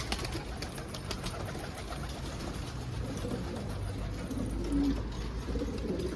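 Domestic pigeons coo softly amid a dense, steady bed of rustling and fluttering, with no voices.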